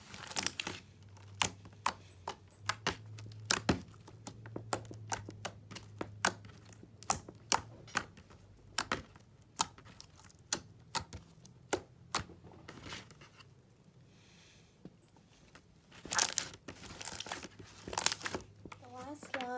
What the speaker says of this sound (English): This one is really gorgeous and super clicky and jiggly.